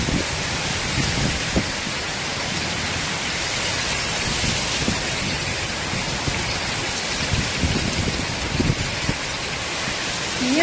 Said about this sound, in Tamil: அந்த மழையோட சத்தமே